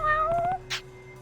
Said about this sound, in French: Oh tiens, un chat.